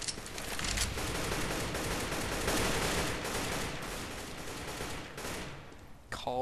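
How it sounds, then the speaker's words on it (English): AK-47 assault rifle fire in a Counter-Strike-style shooter with bots, sustained rapid bursts of loud automatic gunfire filling nearly the whole stretch, ending with a brief break and a few final shots. "Now, the AK-47, which is my favorite assault rifle over the M4."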